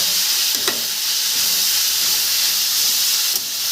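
Cabbage, beans and carrots fry in a pan with a loud, steady sizzle and hiss, broken only by a couple of faint utensil taps.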